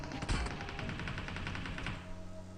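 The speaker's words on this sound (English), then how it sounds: "I actually got shot at by someone on the left" Rapid burst of automatic gunfire in PUBG Mobile, a steady string of about a dozen fast shots from a distance, fading into a low ambient hum after the volley.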